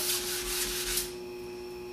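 A sanding block rubs lightly over guide coat on the primed body of a Fiat Spider, quick close rasping strokes for about a second, then a steady background hum.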